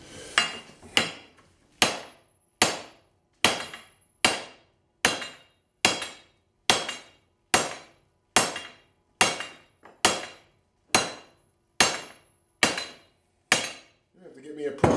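A steel tube with a TIG weld to spring steel is hammered flat, about sixteen sharp, ringing metallic blows struck in a steady rhythm, each decaying quickly before the next.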